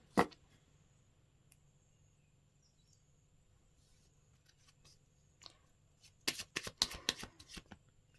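Tarot cards being shuffled for a reading, a quiet room broken by a single early snap, then a rapid flurry of crisp riffling slaps near the end, close and clear with no talking.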